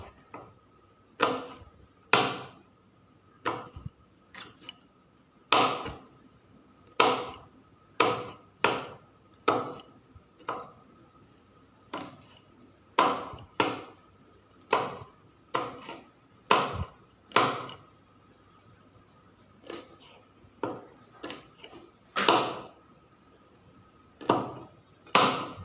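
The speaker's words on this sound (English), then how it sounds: "Let's chop the green chilli. Chop it finely." Green chilli being finely chopped with a knife on a board, about thirty sharp, crisp chops in short uneven bursts separated by brief pauses, close and distinct in a quiet room.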